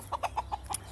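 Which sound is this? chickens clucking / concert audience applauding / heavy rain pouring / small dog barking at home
chickens clucking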